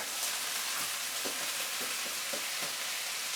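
Rinsed rice hits a hot wok and sizzles with a dense, even hiss, while soft scraping knocks from stirring come through at irregular moments.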